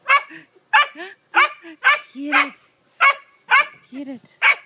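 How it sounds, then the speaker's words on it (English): A small dog barks sharply about nine times in quick, uneven succession, close by, with short yips between barks. "Look at that naughty dog over there."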